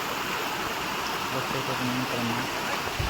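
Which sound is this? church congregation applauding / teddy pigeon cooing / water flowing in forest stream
water flowing in forest stream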